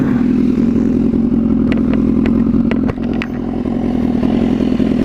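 A motorcycle fitted with an SC Project CR-T exhaust runs loud and close, a dense steady engine drone broken by sharp clattering ticks and slight surges, with no voices.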